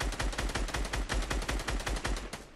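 Rapid automatic turret gunfire in Fortnite, a steady fast burst of loud, closely spaced shots running continuously without pause.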